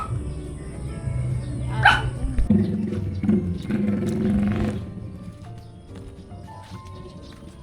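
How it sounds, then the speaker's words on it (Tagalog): A dog barks outdoors in a few sharp, close bursts early on, then things settle into quieter rustling and background noise. "Mahabol ka ng aso dyan, Mucha, eh."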